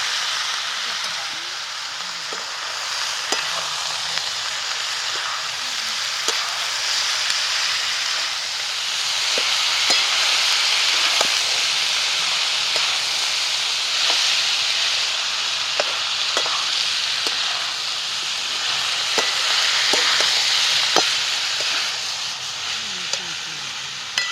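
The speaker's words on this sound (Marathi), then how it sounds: "जे आपली हरभऱ्याची डाळ जी भिजायला घातली होती ना ती आता त्यात टाकणार आहे" Soaked chana dal sizzles and fries in a pan for a spicy mohatyachi bhaji, with a soft, steady hiss and scattered clicks from stirring. The sound stays at a moderate, even level throughout.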